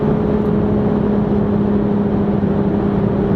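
A 2023 Toyota GR Supra A91-MT Edition with a manual gearbox accelerating, its engine giving a loud, steady droning hum with a constant tone and no shifting.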